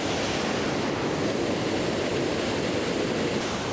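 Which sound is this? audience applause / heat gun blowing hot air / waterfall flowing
waterfall flowing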